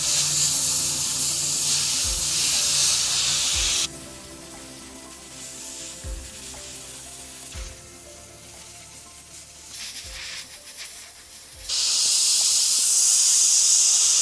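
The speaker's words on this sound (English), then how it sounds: "Just working very carefully with the airbrush, pulling back on the trigger a little bit, but not too much." An Iwata CM-SB Micron airbrush sprays paint onto Star Wars Legion stormtrooper miniature armour, a steady close hiss that drops to a softer, quieter spray midway with small clicks, then returns to full strength near the end.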